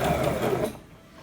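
Brother GS1700 sewing machine stitching, a brief steady mechanical whir up close that stops abruptly after under a second, leaving quiet room tone.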